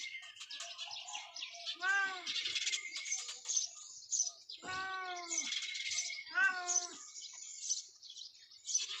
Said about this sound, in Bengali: লাওয়ারিশ বিড়াল তো